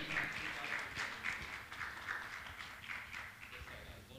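Audience applause at a Jain religious gathering honoring donors, a dense, fairly quiet wash of many hands clapping throughout, slightly distant.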